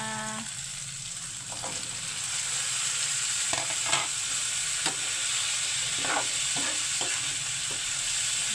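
Bitter gourd (ampalaya) and egg fry in a pan with a steady, close sizzle, broken by a few soft stirring scrapes and clicks; no one talks.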